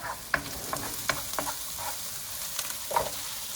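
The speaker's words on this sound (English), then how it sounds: "And you can tell the onions are really sauteed well." Onions and garlic sautéing in olive oil in a pot for a healthy soup, a soft steady sizzle broken by several sharp scraping stirs of a spoon, close and moderately loud with no voices.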